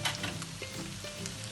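Shallots and onion frying in a pan with a steady close sizzle and light crackle, along with faint stirring scrapes and no talking.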